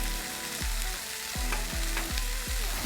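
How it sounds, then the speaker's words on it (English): Onions and mushrooms sizzle steadily on a hot griddle, with a spatula scraping and tapping the metal surface several times at uneven intervals. "throw some onions on it"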